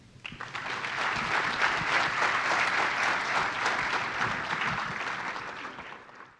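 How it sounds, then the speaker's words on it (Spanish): Applause rises quickly from a conference audience, swelling into a full, steady clatter of many hands clapping, then slowly tapering off over about six seconds. "Aplausos."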